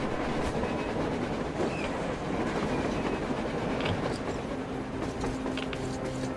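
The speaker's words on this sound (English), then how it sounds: "A train! A damn train!" A train rumbles past in the Metro Exodus video game, a steady loud rolling roar with rail clatter that fills the whole stretch, with faint tonal squeals near the end.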